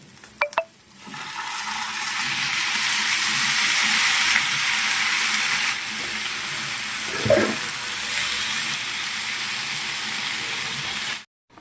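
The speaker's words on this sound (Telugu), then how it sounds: "దీంట్లోనే మనం టమాటాలు కూడా వేసేసుకుందాం ఫ్రెండ్స్" Tomatoes and onions fry in a pan with a bright, continuous sizzle that starts with a burst as they go in, swells, and then settles. A utensil scrapes and taps against the pan midway.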